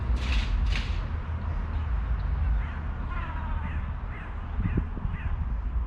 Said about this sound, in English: Here's our little crows lining up here.